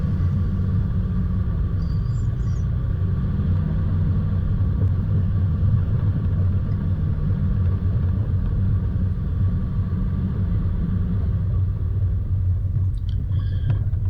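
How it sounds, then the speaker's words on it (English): A 4WD car grinds slowly up a steep high-country mountain ridgeline track: a steady, loud low engine rumble holds throughout with no change in pace, and nobody speaks. "Just let the car do the work and drive your way up it."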